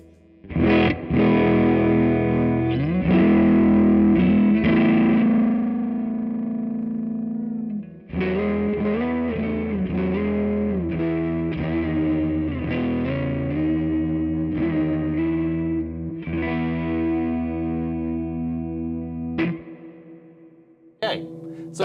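Electric guitar through an overdrive pedal set as a clean boost plays chords and single notes with a mildly driven, slightly gritty tone, ringing out close with a brief pause partway.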